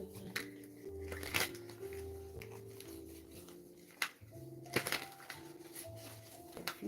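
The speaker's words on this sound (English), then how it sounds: "so I'm gonna do some shuffling" Tarot cards shuffled by hand in a string of soft, papery riffles and taps, some sharper flicks standing out, with steady music playing underneath.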